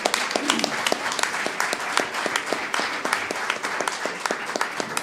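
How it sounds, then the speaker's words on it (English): Applause from a civil rights conference audience, moderately loud, with distinct individual claps standing out from a steady background of many hands, continuing evenly throughout without speech. "I appreciate the applause"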